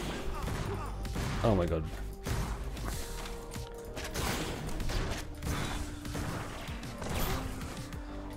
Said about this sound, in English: The shotgun's a dream.